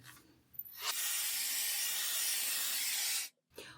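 Hair being blown dry on low heat, a continuous loud rushing hiss lasting about two and a half seconds that cuts off abruptly, then briefly starts again.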